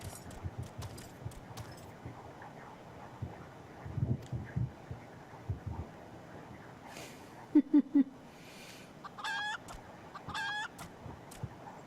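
Chicken clucking in a video game, with a few short clucks and a brief bright call over steady game background sound.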